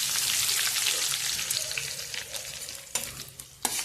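Cumin, garlic paste, curry leaves and red chillies hiss loudly in hot oil, a steady close sizzle with a few sharp crackles and pops near the end.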